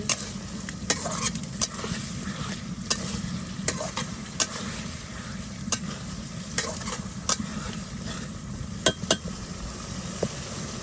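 Hilsa fish frying in a pan gives a steady sizzle, with repeated sharp clinks and scrapes as a utensil turns the pieces against the metal.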